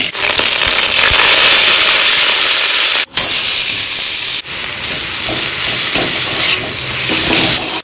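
Whole green chillies dropped into poha frying in a pan, with a loud continuous hiss and sizzle close by that cuts out briefly twice, and no voices.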